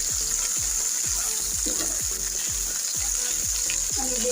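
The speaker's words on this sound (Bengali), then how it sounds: "আমি প্রথমে ভেন্ডিটা একটু ভালো করে ফ্রাই করে নিচ্ছি।" Okra (bhindi) frying in a pan, a loud continuous sizzle close by with a steady run of low rhythmic knocks from stirring throughout.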